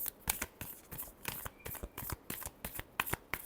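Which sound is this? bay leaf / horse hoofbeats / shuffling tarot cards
shuffling tarot cards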